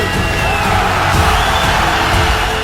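A vociferous London arena crowd at a heavyweight championship boxing bout, Lennox Lewis vs Oliver McCall, roars and cheers in a loud, steady, unbroken wash of voices throughout.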